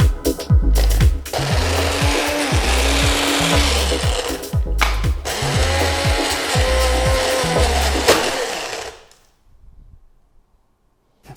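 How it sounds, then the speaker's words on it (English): Rolling pin pounding crumbs inside a plastic bag, a loud run of rapid, repeated thuds and crinkly rustling for about eight seconds before it stops and fades to quiet. "put them in a plastic bag and pound them with a rolling pin"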